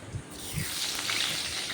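Paneer pieces, salted beforehand, sizzling in hot oil for a Bengali vegetarian thali, a steady close-up crackle with a few soft bubbling pops near the start.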